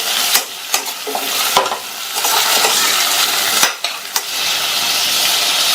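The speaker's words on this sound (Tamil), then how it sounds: "இந்த முருங்கைக்காயை 1 நிமிஷத்துக்கு வதக்கி விட்டுக்கங்க" Drumstick (moringa) pieces sizzle and fry loudly in a pan with salt while being stirred, a steady close hiss broken by sharp scrapes and clanks of a spoon against the pan.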